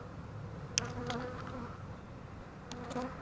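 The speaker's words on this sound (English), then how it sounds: "bees are going in the holes." A swarm of bees buzzes in a steady mass, with single insects flying close past now and then, no voices heard.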